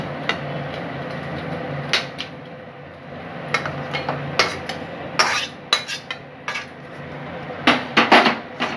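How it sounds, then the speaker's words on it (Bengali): Goat mutton pieces being moved into a pressure cooker, with a series of clinks and metallic knocks of a spoon against a metal pot, irregular and close, over a low background hum. "এই যে মাংস আমি প্রেসারে দিয়ে দিচ্ছি।"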